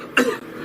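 A single short cough, close and abrupt, alone against quiet background.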